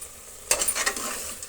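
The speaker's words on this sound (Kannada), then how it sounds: "ಈಗ ನೆನೆಸಿಟ್ಕೊಂಡಿರುವಂತಹ ಬಟಾಣಿ ಕೂಡ ಸೇರಿಸ್ತಾ ಇದ್ದೀನಿ." Soaked green peas drop into a pan with a sudden burst of sizzling, then bubbling and stirring carry on for about a second while fenugreek rice is cooked with curd.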